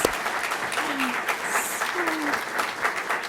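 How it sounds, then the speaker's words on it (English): An audience at a nurse anesthetist diploma and awards ceremony applauds the graduates, a full steady round of clapping with faint voices mixed in. "I would ask for another round of applause"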